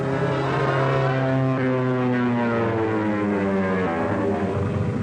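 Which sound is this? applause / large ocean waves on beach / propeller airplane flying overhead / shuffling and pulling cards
propeller airplane flying overhead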